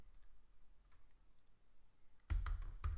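Quick burst of keystrokes on a computer keyboard, a few faint taps early on, then a sharp cluster of close, clicky presses near the end.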